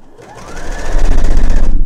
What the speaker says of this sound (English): Just using a single needle stitch to hem it.